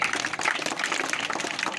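Brief, steady applause from an audience at a school ceremony honouring a student, dense clapping at moderate loudness with no voices standing out.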